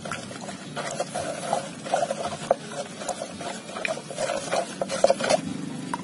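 Cow manure being stirred into water for tomato fertilizer, with wet sloshing, patter and trickling from irregular stirring strokes, close and moderately loud with no talk.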